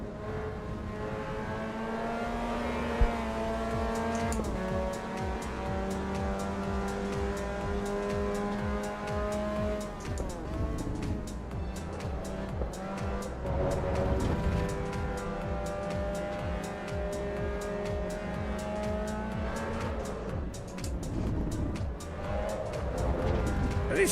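Mazda MX-5 driven in the Assetto Corsa EVO racing game, its engine note rising and falling steadily through gear changes and revs for the whole stretch, loud and continuous, without talk.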